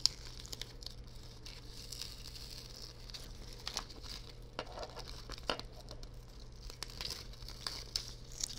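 Heat transfer vinyl (Siser EasyPatterns, houndstooth design) being weeded off its carrier sheet after a Silhouette CAMEO cut, giving faint, continuous crinkling and peeling with small tearing bursts, close and quiet, no talking.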